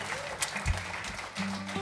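An audience claps for a guitarist at a concert, a steady wash of applause for about two seconds with a few low voices mixed in.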